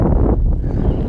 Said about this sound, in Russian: Да, ветер есть, он, конечно.